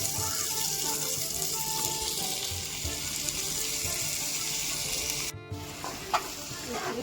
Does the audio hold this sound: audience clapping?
no